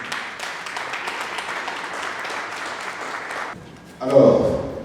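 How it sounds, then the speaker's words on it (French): An audience at an award ceremony in the Democratic Republic of the Congo applauds steadily for several seconds, the clapping dense and moderately loud, then fades before a louder voice cuts in. "Prière de nous applaudir nous-mêmes."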